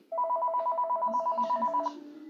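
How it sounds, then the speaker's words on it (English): A telephone rings with a rapid electronic trill that runs unbroken for nearly two seconds before cutting off, leaving faint room tone and a low murmur behind. "The phone is ringing."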